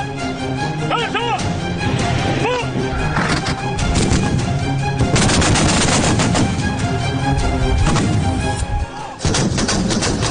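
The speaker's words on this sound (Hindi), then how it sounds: "दिन हो या रात, जिनपिंग का ऑर्डर आया नहीं और चीनी सैनिक धमाकों वाली एक्टिंग शुरू कर देते।" Gunfire and explosions from Chinese soldiers' military exercise, with dense bursts of shots and booming blasts overlapping continuously and loudly, mixed with a voice and music-like layers.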